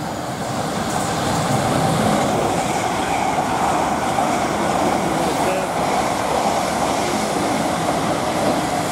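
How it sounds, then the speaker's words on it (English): A South Western Railway Class 450 electric train passes Brookwood station, a loud steady rush of wheels and rail noise sustained throughout, close by and continuous. "Oh, there's another train coming, Liam."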